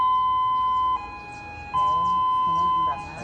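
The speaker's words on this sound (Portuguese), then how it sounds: "pela sirene que soou alertando sobre o perigo de um novo acidente" Dam warning siren sounding over Brumadinho, Minas Gerais, during a dam disaster, a steady electronic tone held in long blasts that drop briefly in level and then swell back, loud and sustained over faint background noise.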